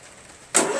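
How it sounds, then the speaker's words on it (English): A Briggs flathead engine on a Murray lawn tractor, suffering low compression, is cranked after near silence, a sudden loud burst of starter churn lasting about a third of a second. "So let's see if it cranks."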